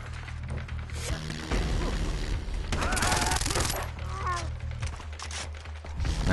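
Gunfire in Far Cry 3, with rapid bursts of automatic rifle shots and clattering weapon mechanics piling into a loud, dense fusillade across several seconds, with game sounds layered throughout.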